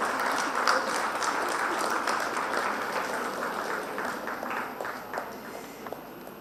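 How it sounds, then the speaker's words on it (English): A college day audience claps warmly to welcome the chief guest, a dense round of applause that thins out and fades toward the end. "Request the audience to join me in a warm round of applause"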